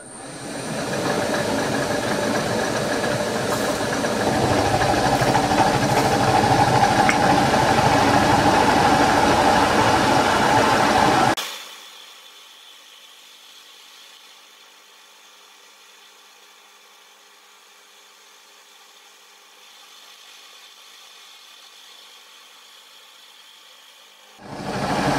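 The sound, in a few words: milling with a carbide end mill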